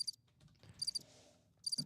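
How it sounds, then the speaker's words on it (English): Cricket chirps are played as a sound effect, three short bursts of high, rapid trilling pulses evenly spaced across a quiet background with faint low rustling. "I like the crickets."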